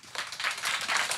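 Audience applause for a young girl at a children's fashion model show, a steady wash of many hands clapping at moderate volume, dense and continuous throughout with no voices on top.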